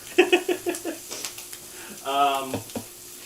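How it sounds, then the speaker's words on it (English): Duck fat crackles and sizzles in a hot pan with sharp pops early on, then a brief louder hiss, close by with faint talk in the background. "I don't know if you guys can probably hear that sizzle"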